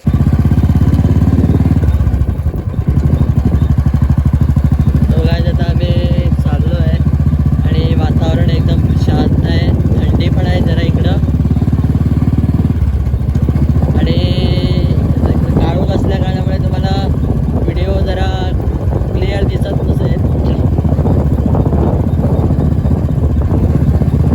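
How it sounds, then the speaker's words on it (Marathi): A motorcycle engine with a newly fitted loud silencer drones steadily throughout, with a voice talking over it now and then. "याचा एक्झॉस्ट आवाज कसा येतो आहे ते मग तुम्हाला नंतर दाखवतो"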